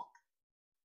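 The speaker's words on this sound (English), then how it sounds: "not too big of a cork pop" A cork is pulled from a wheat whiskey bottle, giving one short, soft pop at the start, followed by near silence.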